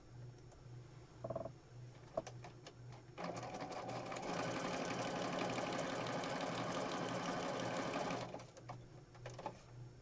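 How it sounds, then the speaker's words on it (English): A sewing machine adds a little stitching to a junk journal page, with a short burst and then a steady run of about five seconds, fairly close and quiet, with no talking. "I'm going to put a little sewing on this piece"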